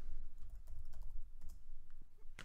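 Rapid clicking of keys on a computer keyboard during Photoshop work, a steady run of close taps with a sharper keystroke near the end.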